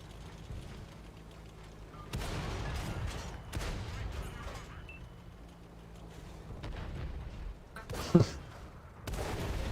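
Distant booms of artillery fire in a tank combat game, several muffled thuds spread across the stretch with one sharper crack near the end, low and rumbling under background battle noise.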